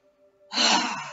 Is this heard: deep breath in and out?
yes